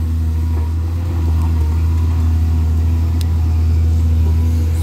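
A Sany SY205C excavator digging a pond runs with a steady, loud, low engine drone, holding constant for several seconds with a slight rise in effort partway through and no talk.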